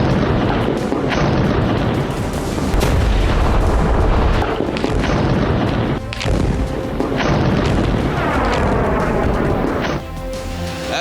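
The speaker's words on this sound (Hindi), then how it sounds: "गाजा पर बम बरस रहे हैं।" Bombs exploding in Gaza during the Israel–Hamas war: loud, dense rumbling booms and sharp blasts follow one another almost continuously, with deep low rumble throughout and several crisp bursts standing out.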